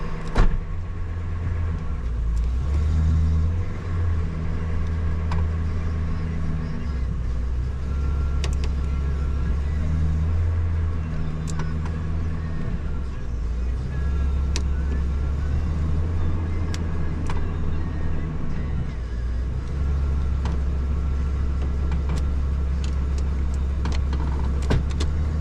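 A bus engine idles steadily while the transmission is cycled through the gears, a loud low rumble that rises and dips over a long stretch, with occasional clicks and clunks on top.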